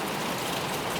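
Steady rain falls at night through the whole short stretch, a soft even hiss of drops with no other sounds.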